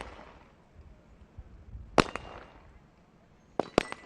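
Sniper rifle shots ring out at a SWAT team challenge: one sharp crack, then a quick pair of cracks a moment later, heard at a moderate distance over a low murmur of background noise.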